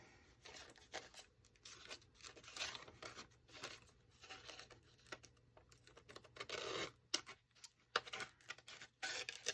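Paper panels being trimmed on a paper trimmer for napkin cards, a run of close, quiet scraping and slicing strokes with short pauses between, no talking.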